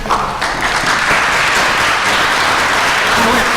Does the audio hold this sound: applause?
yes